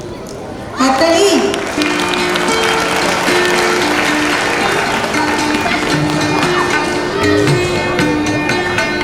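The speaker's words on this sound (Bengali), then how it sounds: "হাততালি।" Audience applause fills a Foundation Day celebration hall, a sustained, dense clapping that starts abruptly after a brief pause and keeps a steady loud level throughout, with a voice speaking over it.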